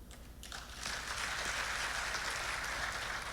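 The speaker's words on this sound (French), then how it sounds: "c'est comme ça qu'on applaudit pour qu'elle vous voie aussi" A master class audience claps in a hall, a faint murmur swelling into sustained applause that holds steady and fairly distant to the end.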